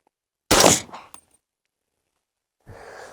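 A single sharp 300 Blackout subsonic shot, a Supervel 200 grain FMJ round, cracks loud and close, trails off briefly, then quiet before faint shuffling noise returns.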